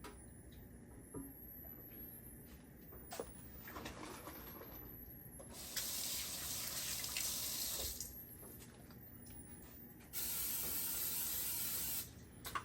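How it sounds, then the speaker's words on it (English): Two hissing sprays from an aerosol can of vegetable oil onto chicken, each lasting a couple of seconds, close up over faint background clatter. "I'm gonna spray both sides of the chicken."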